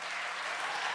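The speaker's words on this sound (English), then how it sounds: "we'll get to hear more speakers if we calm down on the applause" Audience members clap in sustained, dense applause at a city council committee meeting, loud and steady throughout with no voices on top.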